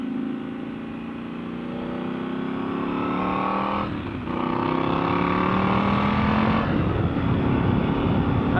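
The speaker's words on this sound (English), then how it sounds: "I do love the sound of this bike." A motorcycle engine revs and pulls steadily on a wet road, loud and close throughout, with a brief dip in the middle before the engine note climbs again.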